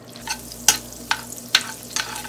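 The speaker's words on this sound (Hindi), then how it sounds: "अब पैन में 1 टेबल स्पून आप बटर डाल दें, या बटर नहीं है तो तेल डाल दें।" Butter melting in a hot frying pan sizzles with a soft, steady hiss, broken by several sharp scraping bursts at regular intervals as it is stirred. Close and fairly loud, with no voices.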